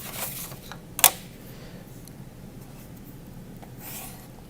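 Pencil scratching along a ruler on paper while drawing a frame around an artwork, soft intermittent strokes with one sharp click or tap early on, then faint scraping rubs, close and quiet.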